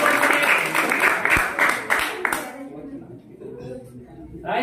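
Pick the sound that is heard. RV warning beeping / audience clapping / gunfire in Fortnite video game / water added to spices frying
audience clapping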